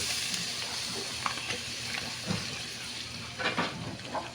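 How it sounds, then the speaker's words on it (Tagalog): Butter melting and sizzling in a hot pan as a cordon bleu sauce is started, a steady close frying hiss with occasional soft stirring bumps and no talk. "Ito yung butter natin. Nag-iisang piraso. Lagyan natin dyan."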